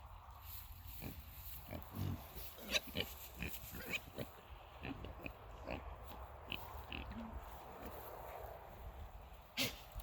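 A pig grunts softly in a field with cool ground just after snow has left a farm garden, giving low intermittent snorts amid faint rustling and footstep-like shuffles; quiet and outdoors.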